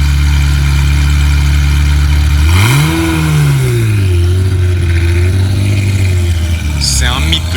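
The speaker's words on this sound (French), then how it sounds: "C'est un mythe de chez Ferrari cette voiture." Ferrari sports car engine in Monaco revs hard once, pitch sweeping up and dropping back to a steady loud idle, with faint street noise and brief voices near the end.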